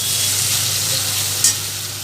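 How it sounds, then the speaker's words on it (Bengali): Potatoes fry in oil in a small pot, giving a steady close sizzling hiss with a brief scrape of stirring near the end and no speech. "তা আমি একটু আলুটাকে ভেজে নিই ভালো মতো"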